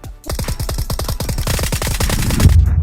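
Rapid bursts of automatic gunfire from a VSS rifle in Metro mode of PUBG rattle in a fast, even rhythm, loud and close, continuing without pause.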